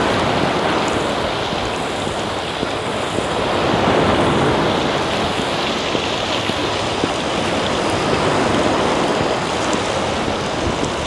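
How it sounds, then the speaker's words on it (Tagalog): Rough sea surf pounds a beach in drizzly weather, a loud, continuous roaring wash with no pauses, mixed with wind noise. "Sobrang alon."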